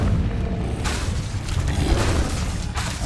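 A fire spell cast in Hogwarts Legacy, producing a loud, steady roaring whoosh of flame that fills the whole stretch without a break.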